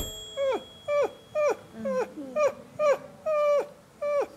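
A dog whimpers in a series of about eight short, high, falling whines, evenly spaced and close by, with no other sound between them.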